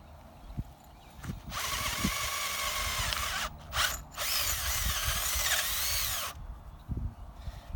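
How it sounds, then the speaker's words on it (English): A power drill drilling through copper whines in two long bursts, briefly stopping between them, with quieter handling clatter before and after. "Be extra careful when you're using your drill."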